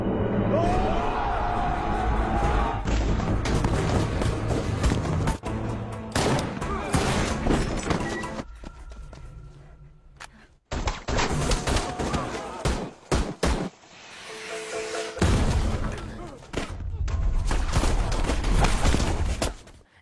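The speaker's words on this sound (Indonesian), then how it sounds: "anak buah Tang menembaki dirinya secara bertubi-tubi" Gunfire from a battle scene in the 2025 action film The Old Way comes as dense volleys of shots and impacts over a loud soundtrack, broken by a few brief near-silent gaps.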